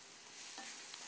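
Ackee and salt fish fry at high heat in a pan, a faint steady sizzle with a soft stirring scrape partway through, no voices.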